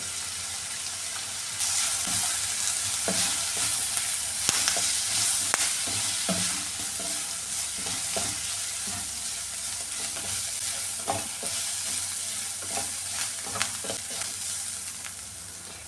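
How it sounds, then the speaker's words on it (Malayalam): Chopped onions with salt and turmeric fry in a pan for a dal thoran, a constant close sizzle broken by repeated scraping strokes of a spoon stirring them, no talk. "ഉപ്പ് ചേർത്ത് കൊടുക്കുമ്പോൾ ഈ ഉള്ളിയൊക്കെ പെട്ടെന്നൊന്ന് വഴണ്ട് കിട്ടുവേ"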